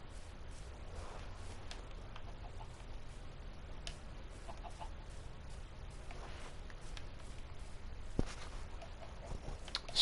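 Chickens clucking in the video game Minecraft, soft scattered clucks over a low ambient hum, with a few sharper clicks and no talking.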